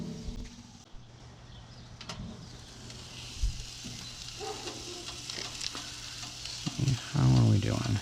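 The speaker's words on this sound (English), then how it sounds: "put our bread on to toast" Bread toasting in a pan sizzles steadily and softly in a home kitchen, with a louder scrape or clatter near the end and little talking.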